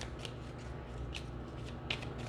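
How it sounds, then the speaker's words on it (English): Tarot cards being shuffled in quick riffling bursts, a few soft crisp flutters over a steady low hum, close and fairly quiet. "So I'm just shuffling these."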